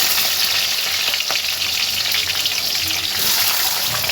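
Onions frying in hot spiced oil, a steady loud sizzle that crackles continuously from start to finish, with occasional faint stirring scrapes and no voices.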